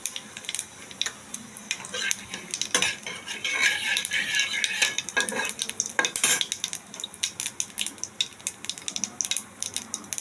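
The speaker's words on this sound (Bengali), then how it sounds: "একটু জিরে ফোড়ন দেবো তেলের মধ্যে তেজপাতা দিলাম" Cumin seeds and a bay leaf temper in hot oil for a prawn and bottle gourd dish, with a crackling sizzle and busy spatula clinks and scrapes against the pan. The sound is close, irregular and without speech.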